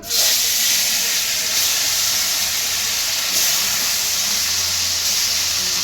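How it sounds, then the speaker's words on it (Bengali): Fish frying in hot oil for a Bengali fish curry with jackfruit and potatoes: a loud, dense sizzle fills the whole stretch, close and continuous without any break. "গরম হয়ে গেছে, মাছগুলো ভেজে নেব।"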